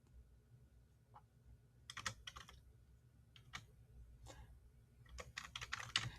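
Keys clatter on a computer keyboard in short irregular bursts of clicks, quiet and close, with brief pauses between runs and a faster flurry toward the end.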